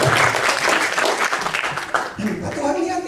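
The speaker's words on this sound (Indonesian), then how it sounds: "Tepuk tangan buat Tuhan." A church congregation at a Thursday worship service applauds, with a dense, lively clatter of many hands, mixed with voices and cheering, loud and close throughout.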